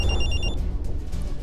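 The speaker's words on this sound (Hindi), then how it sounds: "तभी मेरा फोन बजा" A telephone ringtone in a Hindi audio drama trills in about three quick bright bursts, close and clear over a low rumbling background, then falls away into dim ambience.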